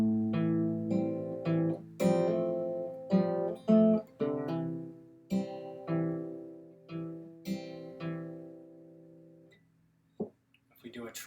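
Acoustic guitar picks out the intro of a song at a slow tempo, thumb-plucked bass notes and ringing fingerpicked chord tones in a steady, gentle pattern, close and clear with no voice.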